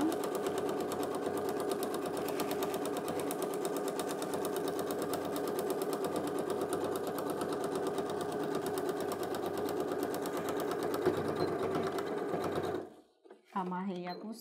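A sewing machine stitches a thermal tote bag made of fabric and insulating material, running in a fast, steady mechanical whir for about twelve seconds before stopping, after which someone speaks briefly.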